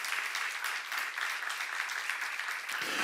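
A church congregation at a Bible seminar claps together in steady, dense applause that stays even and loud from start to finish.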